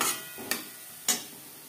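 A spoon scrapes through chicken with peas, carrots and beans in a pan for soup. Three short, quiet stirring strokes come up close with a faint sizzle underneath.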